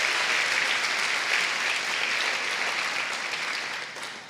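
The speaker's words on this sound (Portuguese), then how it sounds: "Pode aplaudir a ele." Church congregation applauding during a sermon, a dense, loud wash of many hands clapping that holds steady and then eases off toward the end, with no voices on top.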